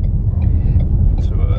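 Steady low road rumble of a car heard from inside the cabin while driving, continuous and fairly loud, with a person speaking over it.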